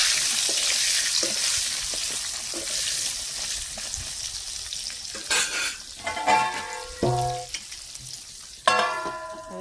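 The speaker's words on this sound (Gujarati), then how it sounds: "હવે આપણે એમાં હરીગવો એડ કરી દીધો છે।" Drumstick pods sizzle in a pan with cinnamon pieces and bay leaves. A steady frying hiss gives way to louder bursts of stirring and clattering in the pan.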